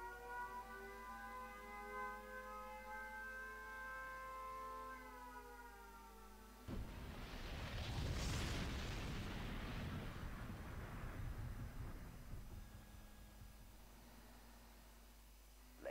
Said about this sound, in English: Nuclear missile launched.